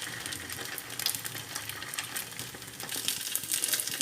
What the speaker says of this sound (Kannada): ಎಣ್ಣೆ ದೋಸೆ ಮಾಡುಗ ಈಗ ದೋಸೆ ಹಾಕ